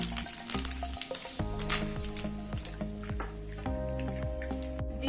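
Dry coconut pieces and curry leaves frying in hot oil for a karasev mixture, giving a steady close sizzle and crackle over faint background music.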